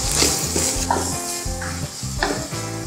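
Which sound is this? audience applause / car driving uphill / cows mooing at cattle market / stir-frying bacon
stir-frying bacon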